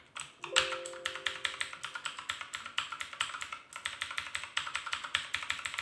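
Rapid, clacky keystrokes on an inexpensive mechanical gaming keyboard, priced under 50 euros, come in a dense, irregular typing rhythm, close and fairly loud, with no speech.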